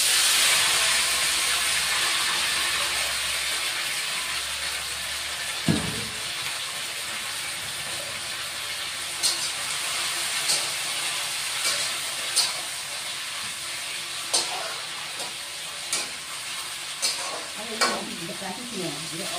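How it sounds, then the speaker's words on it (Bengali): Yardlong beans, steamed beforehand, frying in hot oil with a steady close sizzle and hiss, interrupted by a series of sharp scraping and stirring knocks in the second half. "এখন বটবটিটাকে আগে ভেজে নিব।"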